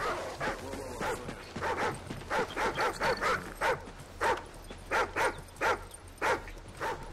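A dog in the video game Call of Duty: Ghosts whines and yips in a steady series of short, high, pulsing whimpers about every half second, close and clear over a low game background hum, with no talking.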